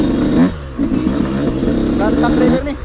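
A motorcycle engine, apparently one pulling a trailer, runs steadily at a low rumble close by while people talk over it throughout.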